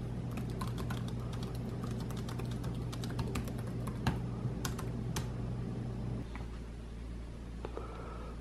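Fingers type on the keyboard of a Dell XPS 13 9350 laptop, a close run of quick, light key clicks in uneven bursts over a faint steady hum, tapering off near the end.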